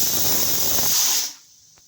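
A pressure cooker on a gas stove lets out a loud, steady steam whistle, a continuous hiss that cuts off sharply after about a second and a quarter, leaving quiet behind.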